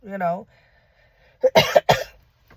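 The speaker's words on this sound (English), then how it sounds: "excuse me for the cough" A brief voiced sound, then a pause and a few harsh bursts of coughing up close.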